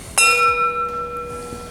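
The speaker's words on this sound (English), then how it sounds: "I'm kind of incorporating now with my little bell here." A single bright strike of a small hand bell in a classroom, a clear ringing tone that sustains and slowly decays, close and fairly loud.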